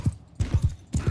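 Hooves of a horse in the Bannerlord video game, a few heavy low thuds in quick uneven pairs like a gallop slowing down, close and clear with no talk.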